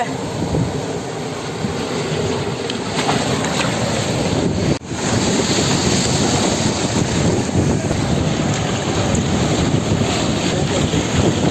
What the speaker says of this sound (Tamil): கடல் அலை வேற ஆக்ரோஷமா அடிக்குது வேற